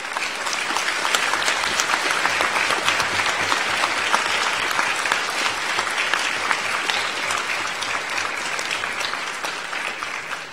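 Graduates at a Monash Malaysia graduation ceremony break into sustained applause, a dense, loud, even roar of many hands clapping that holds steady for about ten seconds and tapers only slightly at the end.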